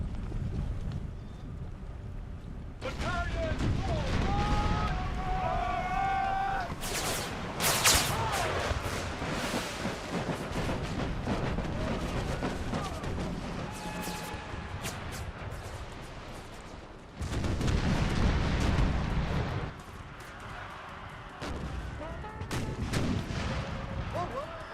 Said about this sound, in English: Of course, the cannons are not that effective at these long ranges, but they do their job.